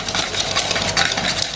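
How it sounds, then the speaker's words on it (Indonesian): A balloon whisk beats sugar and eggs in a bowl, making a close, continuous, rapid scraping and rattling with no voices. "Kalau saya cukup menggunakan balon whisk saja ya. Nah, kita mix sampai pucat, sampai gulanya larut seperti ini."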